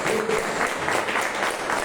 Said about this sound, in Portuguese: pôr de pé uma linda salva de palmas para o Senhor Jesus.